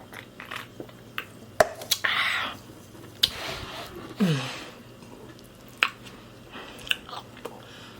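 Wet chewing and biting of salmon and grits from a food truck, close-up mouth sounds with scattered smacks and squishes in short bursts, sometimes with a brief murmur of a voice.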